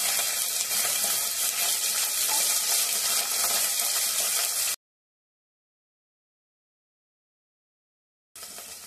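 Cauliflower dropped into hot ghee in a wok sizzles with a steady, fairly loud hiss for several seconds, then cuts to silence before the frying noise briefly returns.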